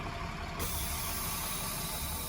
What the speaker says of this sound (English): Now you're gonna release the parking brake.